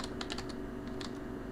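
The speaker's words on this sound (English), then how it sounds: "type this in here" Computer keyboard typing, a quick burst of light key clicks followed by a few more taps, close and soft over a steady low hum of room noise.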